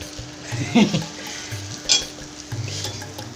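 Large onions frying in a pan while being stirred, with a soft sizzle broken by several scraping stirs and clinks of a utensil, close up and without talk.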